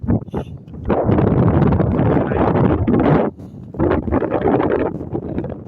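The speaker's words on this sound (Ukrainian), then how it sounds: "але є дуже сильний вітер" Strong wind buffets the microphone on a snowy road with drifts, roaring loud and broadband in long gusts with a brief lull near the middle.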